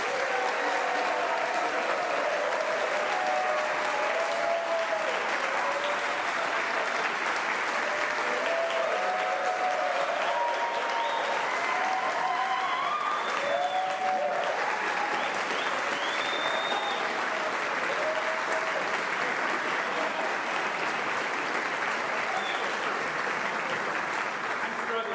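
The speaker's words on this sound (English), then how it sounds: "I don't want you to applaud for me." A large audience applauds after a keynote address at HCNW, sustained clapping filling the whole stretch while a voice talks over it intermittently and the crowd keeps going.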